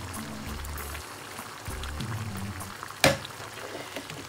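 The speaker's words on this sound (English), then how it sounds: "I'll be using 2 tins of pizza tomatoes." Two tins of pizza tomatoes are poured into a cooking pot in a home kitchen, a thick wet sloshing pour with low gurgles, ending in a sharp metallic clank of the tin.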